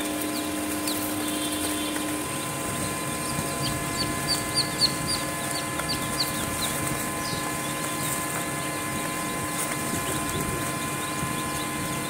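Egyptian chicks chirp in a scattered run of thin, high peeps over a steady background hum, fairly close and continuous with no talking.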